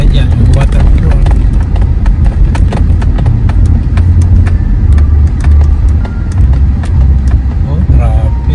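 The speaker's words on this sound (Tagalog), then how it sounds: "Oh, traffic." Heavy car traffic rolls along Alaskan Way South on a city waterfront road, a loud, continuous roar of engines and tires close by.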